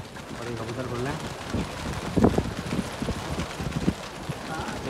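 Flapping wings and soft cooing as a flock of new Gola pigeons is released from a rooftop, a cluster of fluttering bursts mid-clip, with someone talking over the birds.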